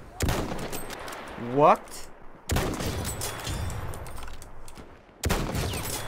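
Enemy machine gun fire in Battlefield 1, with loud bursts of rapid gunfire arriving in separate waves, a whooshing sound in between, and a short spoken word.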